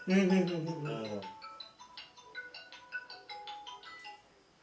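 A melodic phone ringtone signals an incoming call during a Kannada short drama, beginning with a loud tonal burst and then continuing as a quieter patterned tune with no voices over it.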